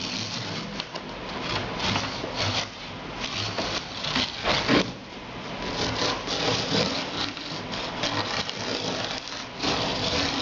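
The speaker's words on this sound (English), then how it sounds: "now what we're doing is we're putting another score on each side so that we'll be able to lift the sides up" A blade scores a panel with continuous close scraping and rasping strokes, steady and fairly loud throughout with slight rhythmic variation.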